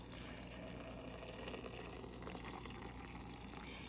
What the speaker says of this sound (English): I'm gonna add a little more water because I need some more